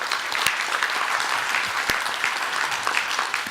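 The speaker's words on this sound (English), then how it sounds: "Alors, on les applaudit" A large conference audience at the plenary session of a world congress breaks into dense, sustained applause, an even wash of many hands clapping with a couple of sharp claps close by.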